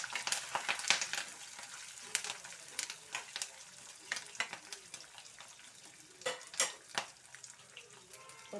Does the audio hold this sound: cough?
no